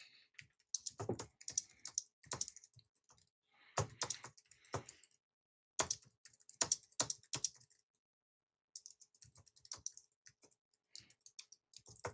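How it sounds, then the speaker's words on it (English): Typing on a computer keyboard, close and quiet, in irregular bursts of rapid key clicks separated by short pauses. "Put my keyboard up here."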